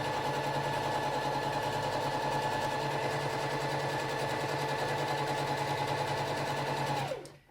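A sewing machine runs a long continuous seam on a tote bag, humming steadily and loudly for about seven seconds before winding down to a stop.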